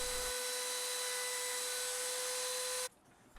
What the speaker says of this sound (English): I'm just going to round over the edges using the router.